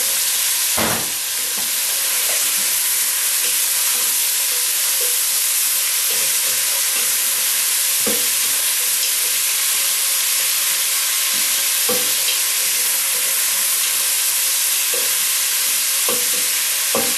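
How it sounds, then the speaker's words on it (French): Crayfish frying in a pan for a bisque, a loud continuous sizzle and hiss that runs steadily throughout, with occasional light knocks and stirring sounds beneath. "Maintenant, je mets mes écrevisses."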